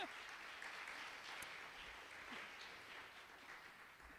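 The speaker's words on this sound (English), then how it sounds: "Big round of applause for the sound crew." A concert audience at the Camp Menesetung fundraiser gives a big round of applause for the sound crew: dense, steady clapping from many hands that holds at an even level throughout.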